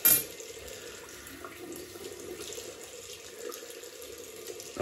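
Tap water runs steadily into a sink to rinse a Rockwell 6C safety razor, a soft continuous splash heard alone at low volume.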